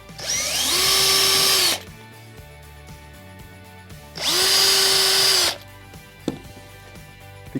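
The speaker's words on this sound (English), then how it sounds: "And again, pre-drill." A cordless power drill pre-drills a screw hole in a ContiBoard side panel, with two loud whirring bursts each about a second and a half long, separated by a quieter pause and a sharp tap afterward.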